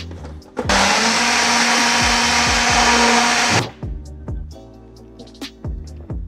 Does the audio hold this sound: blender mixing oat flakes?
yes